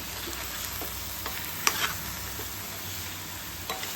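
Mutton pieces fry in a pan with chili powder, turmeric and salt, giving a steady close sizzle with light scraping and one sharp clink, and no one speaking.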